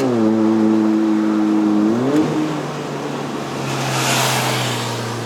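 A 1996 Proton Satria 1.3L 4G13 carburetor car on a mountain road revs hard with a rising engine tone that climbs, then drops as the throttle eases, leaving a steady lower drone and road noise.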